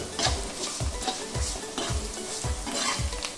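Onions frying in a pan for a green mango curry, stirred with a utensil in several evenly spaced scraping strokes over a steady close sizzle, with no talking.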